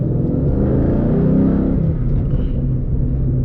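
A 2014 Roush Warrior GT Mustang engine with manual transmission revs and roars loudly close by, building up then easing back, with a deep rumbling tone throughout.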